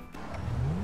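A car engine in the video game GTA 5 revs and rises in pitch over a brief moment, heard close and on its own.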